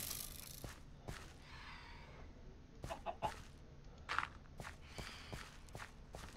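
Minecraft Bedrock chicken clucking in short soft bursts, mixed with quick in-game footsteps tapping at an irregular pace, fairly quiet and close, with no talking.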